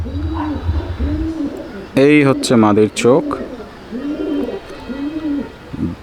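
A female pigeon in a loft gives a series of soft, low, rhythmic coos close by, with someone speaking briefly over the middle of the sequence.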